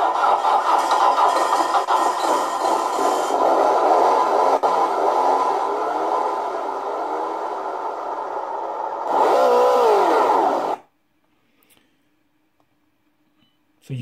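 Vehicle sound simulator software playing an engine-style drone with a turbo whoosh, loud and steady for about ten seconds with a surge near the end before cutting off abruptly into near silence.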